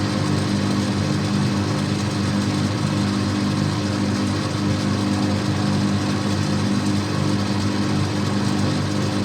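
A drill bores steadily through a motorcycle trailer bush, a continuous loud whirring grind with no pauses and no voices.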